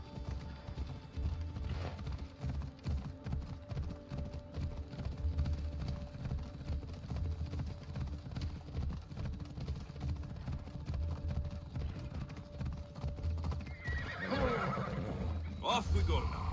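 Horse galloping and neighing in the Assassin's Creed Odyssey video game, steady rhythmic hoofbeats throughout with a whinny near the end, under a low game soundscape and talk.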